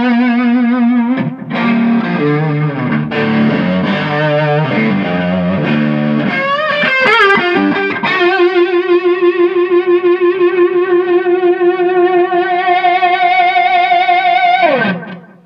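An electric guitar runs through a cranked Gjika 10^n tube amp with a Gainmaster set, loud and saturated, playing busy riffing lines before settling into long held, sustained notes that cut off at the end.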